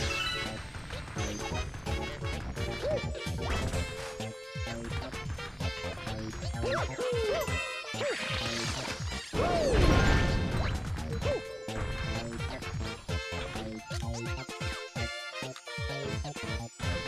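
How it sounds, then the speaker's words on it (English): Dense, busy Super Mario Galaxy 2 game audio full of metallic clangs, crashes and tinkling hits layered over music, with a brighter burst of shimmering chimes midway. "Apparently the metals also make a noise."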